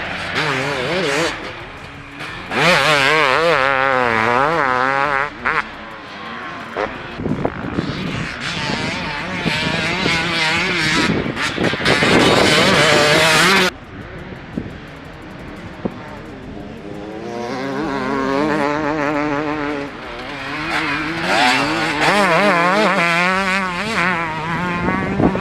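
A 2023 KTM 300SX two-stroke motocross bike ridden hard, its loud buzzing engine rising and falling through gear changes and throttle blips, close and continuous, with brief drops between bursts of revving.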